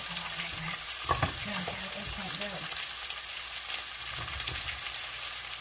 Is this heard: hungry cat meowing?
no